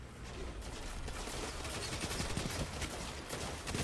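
Adagio submachine gun firing in Destiny 2 multiplayer combat, rapid automatic bursts rattling steadily, fairly quiet and dense, with no talk over it.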